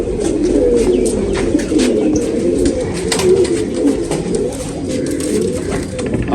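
Several pigeons coo continuously and up close, their soft throaty warbling overlapping in a dense, steady chorus.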